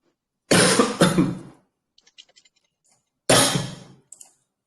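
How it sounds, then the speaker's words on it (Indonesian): Two loud, harsh coughs close to the mic, the first a double burst, separated by a pause with faint clicks, then a third cough. "sorry batuk"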